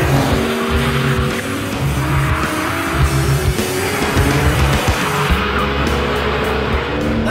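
A Porsche 911 sports car engine revs hard and close, pitch climbing and dropping through gear changes with a raw, rasping exhaust note.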